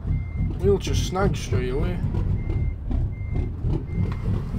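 Reversing beeps from a truck in American Truck Simulator, a steady series of evenly spaced electronic beeps repeating under engine rumble while someone talks over the start.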